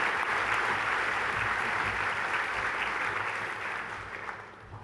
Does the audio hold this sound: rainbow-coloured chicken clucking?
no